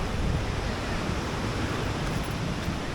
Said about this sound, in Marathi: पाणी खूप आहे धबधब्यावर